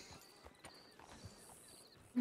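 Hooves clip-clop unevenly and faintly as a horse walks in a roleplay video game, a few soft thuds spread over quiet background ambience.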